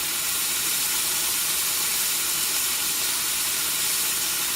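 A thick steak flipped onto its other side in a hot pan gives a steady, even sizzling hiss that holds at a constant level for several seconds, with no voices.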